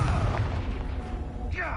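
A Confringo blasting spell detonates in Hogwarts Legacy, a dull booming burst that sits amid dense, continuous game sound with a sharper flare near the end.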